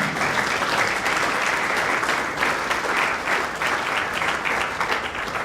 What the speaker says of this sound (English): So a small round of applause for Holly Carr